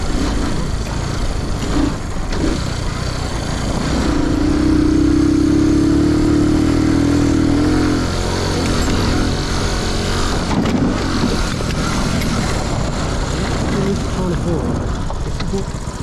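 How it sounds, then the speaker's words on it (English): A Honda Cub motorcycle rides over rough terrain, its engine droning loud and steady the whole time. Bumps and rattles from the bike are mixed into the noise. "what happens when I ride a Honda Cub over certain terrain"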